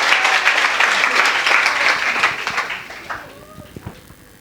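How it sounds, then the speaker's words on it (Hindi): Audience applause at a school Holi Milan celebration, a dense burst of clapping from a crowd that fades out over a few seconds, leaving scattered claps at the end. "जोरदार ताली हो जाए"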